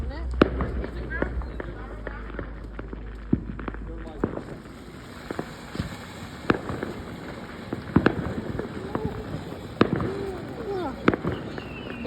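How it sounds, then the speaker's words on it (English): Firecrackers and fireworks go off outdoors in a string of sharp, irregular bangs and pops of varying loudness, some near and some farther away, while people talk and move around. "We just got firecrackers."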